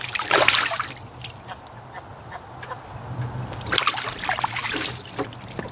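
A wintering duck bathes in shallow water, with two bursts of splashing and dribbling water near the start and again toward the end, quieter trickles between and a faint steady low hum beneath.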